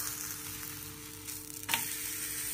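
Millet bajra thepla flatbread roasting on a hot pan, a soft steady sizzle with a faint hum, and a brief scrape or crackle near the end.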